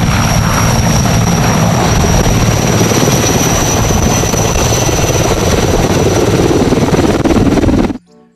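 A toy helicopter gives a loud, steady whirring drone close by that holds evenly for about eight seconds and then stops suddenly.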